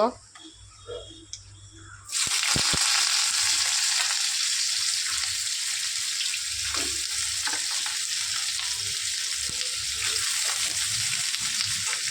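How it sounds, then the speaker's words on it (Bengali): Dried red chilies and black cumin seeds crackle in hot oil, then a loud, steady sizzle of frying ridge gourd sets in abruptly and carries on close up, with a few faint clinks and soft stirring underneath. "শুকনো লঙ্কা কালো জিরে ফোড়ন দিলাম তারপর ঝিঙেগুলো দিয়ে দেব"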